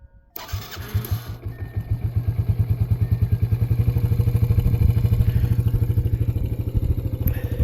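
A Yamaha Raptor 80 ATV engine, its carburetor jet recently changed, fires up after a brief clatter and settles into a steady, fast-pulsing idle that grows slightly louder and rougher as it warms, close by and without speech.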